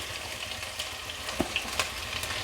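Crushed onion sizzles and fries in a pan for Kerala drumstick leaf thoran, a soft steady crackle with occasional stirring clicks, quiet and close with no speech.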